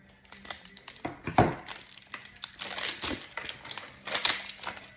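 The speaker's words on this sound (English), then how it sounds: "So I can get all this paper off." Paper torn and crumpled off a subscription scent box package, close and crisp, with irregular crinkling bursts and a sharper rip around the middle, no talking.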